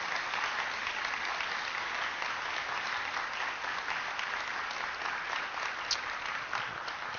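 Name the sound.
audience applause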